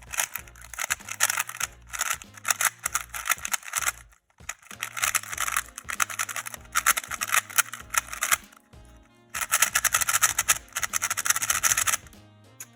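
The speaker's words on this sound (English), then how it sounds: "So as you can hear, it has a very loud and clacky noise" A Tao Cube Light M speed cube being turned gives rapid bursts of loud, sharp, clacky clicks in dense runs, pausing briefly between sequences and close to the microphone.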